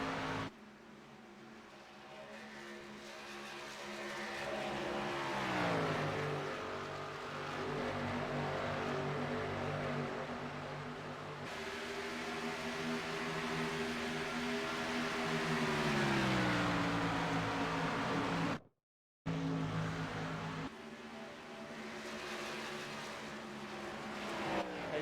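Stock cars in an Xfinity Series racing video game at Auto Club drone loudly around the track, engine pitch sweeping down and back up through the corners, with a brief dropout near the end and no talk.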